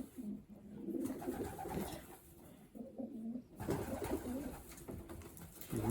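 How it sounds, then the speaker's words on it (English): An apple-bodied young pigeon hen coos in low, soft, repeated phrases close by, with a brief pause midway before the cooing resumes. "Just an apple-bodied pigeon, it's just the shape just of her."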